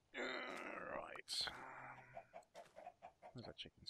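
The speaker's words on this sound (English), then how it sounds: "Where's that chickens going?" Minecraft chickens cluck in a hardcore survival game, several short clucks and game sounds close together, with quiet talk over them.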